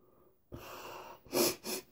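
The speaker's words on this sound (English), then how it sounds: "sniffle." A person with a cold sniffles: a soft breath, then two sharp nasal sniffs close to the mic, quiet and alone.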